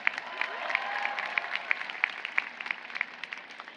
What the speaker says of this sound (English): How about a cheer for our vocalist, Diana Abanate?